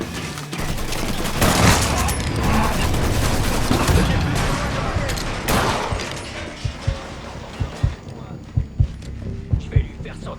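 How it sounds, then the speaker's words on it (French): In Mafia III gameplay, a burst of heavy gunfire and a grenade blast fill the first seconds loudly, then thin out into scattered, spaced single shots. "Je lance une grenade."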